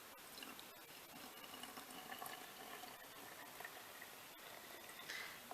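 Liquid is poured while mixing a homemade two-ingredient laundry stain remover that includes Blue Dawn dish soap, making a faint, steady trickling wash with no talking.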